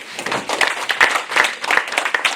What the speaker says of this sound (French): Je voudrais qu'on applaudisse pour monsieur le ministre.